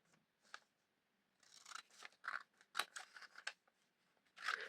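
Scissors snip through a glossy magazine page from a free Kaufland or Pepco flyer, with short separate cuts at first, then a denser run of crisp snips and rustling paper close by, with no talking.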